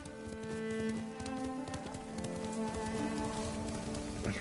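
A horse gallops in Ghost of Tsushima, its steady, rapid hoofbeats close and clear under rain and ambient game music, with no talking.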